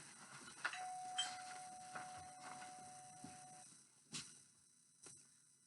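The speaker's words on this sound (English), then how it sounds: "And the doorbell rang." A doorbell chimes once faintly in a quiet room, a single soft tone that lingers for a few seconds, followed by a few light knocks or clicks.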